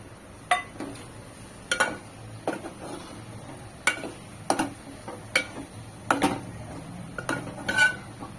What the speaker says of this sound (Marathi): याच्यामध्ये आता हे बोंबील मिक्स करते